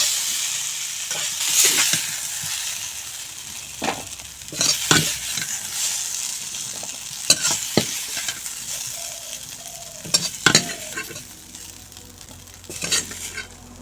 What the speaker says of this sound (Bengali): সামান্য হলুদ গুঁড়া আর সামান্য লবণ দিয়ে আলু ভেজে নেব